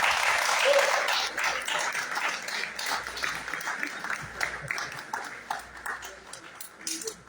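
An audience at a rock talk during a writers' gathering in San Juan del Río claps loudly at first, then thins into scattered, uneven hand claps that taper off.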